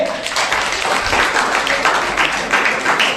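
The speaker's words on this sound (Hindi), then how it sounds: "वेरी गुड, ताली मारिए" A class of school students in a Jharkhand history lesson claps together in a dense, steady burst of applause lasting a few seconds, fairly loud and close, with faint voices mixed under the clapping.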